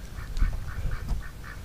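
A duck quacks six times in a steady series at a farm where duck and goose eggs are hatched, close and fairly loud, with soft low background noise and no talk.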